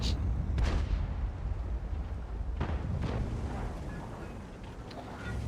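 Tank cannon shots in a World of Tanks-style game replay: a few heavy booming gun blasts rise above a continuous rumbling engine and battle din, about one near the start and others scattered later.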